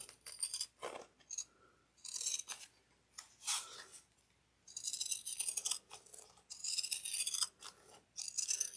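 Pinking shears snip through fabric being cut for a tote bag, close by, in repeated crisp bursts of cutting separated by short pauses, with no talking.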